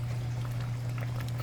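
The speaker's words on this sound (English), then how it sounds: "put a little bit water in there, just a little" A little water is poured into a pot of cooking tripe and butter beans with pepper, a steady liquid bubbling and trickling over a constant low hum.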